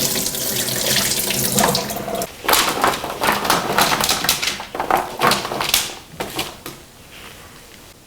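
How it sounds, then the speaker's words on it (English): Liquid from a can of chickpeas drains and splashes into a sink in irregular gushes and spatters, loud and close, then tapers off with scattered drips and light knocks near the end. "We're going to take 1 can of chickpeas. You're just simply going to drain it and pour it over the mixture."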